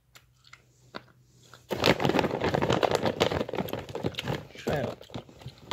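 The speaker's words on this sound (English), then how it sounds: "the chip is kind of crunchy. It's also kind of soft a little bit." A crunchy chip chewed close up, with rapid irregular crunching bursts following a short quiet start.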